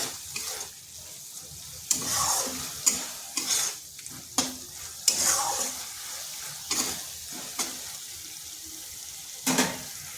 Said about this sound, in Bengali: আর দেখুন কড়াই থেকে তেল ছেড়ে যাচ্ছে, তাহলে আমার মশলাটাও কষা হয়ে গেছে।